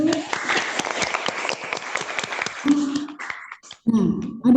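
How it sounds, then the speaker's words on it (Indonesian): Classmates applaud a student group in a classroom, a dense burst of clapping lasting several seconds before thinning out, with voices mixed in. "Tepuk tangan dulu aplausnya buat kelompok 1."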